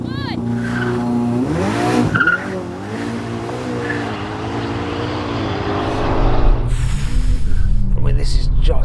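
A Ferrari SF90 XX and a Xiaomi SU7 Ultra launching off the line in a drag race, a loud rising whine with tire noise that swells and grows denser toward the end, with no clear talking.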